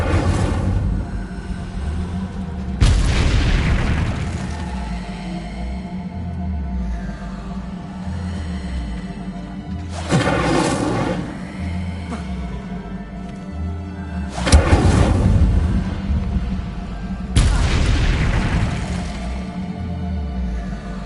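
An Incendio fire spell effect in a Harry Potter game bursts out as several loud, sweeping whooshes a few seconds apart over a steady tonal background.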